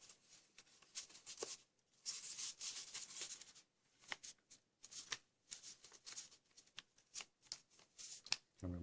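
Paper is folded by hand into an origami T-Rex. Soft, close rustling and rubbing come in short irregular bursts, quiet and steady throughout with brief pauses between creases.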